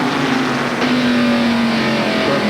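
Stock cars racing in the 1993 First Union 400 at a NASCAR event: a steady, loud roar of engines with a sustained whine as the pack runs at speed, no pauses.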